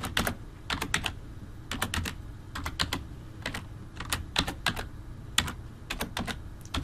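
Brisk, uneven clatter of keys on a computer keyboard as a credit card number is entered, the close, crisp taps coming in short bursts with brief pauses between them, with no talking.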